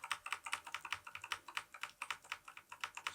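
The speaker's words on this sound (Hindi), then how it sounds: "तो हम F12 का बटन कंटिन्यू प्रेस करते चलेंगे।" Rapid, steady tapping on a computer keyboard as the F12 key is pressed over and over during a Gigabyte PC boot, a quick regular stream of close, crisp clicks.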